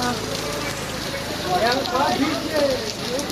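Rain falls steadily at a sea beach, a continuous dense patter on surfaces, with voices talking over it.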